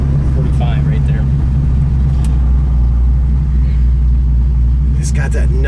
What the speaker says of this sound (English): It's got that nice muscle car sound.